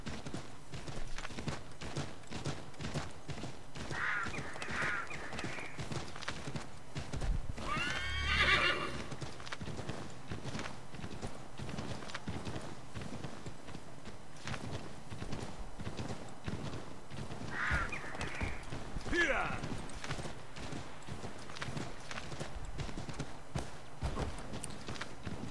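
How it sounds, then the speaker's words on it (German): Horse hooves clip-clop at a fast gallop in Assassin's Creed 3, steady and close, with whinnies breaking in twice over a continuous game soundscape. "wir können da super schnell reiten"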